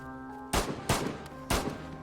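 Three loud, close gunshots ring out in the DayZ video game, spaced irregularly over a steady background hum.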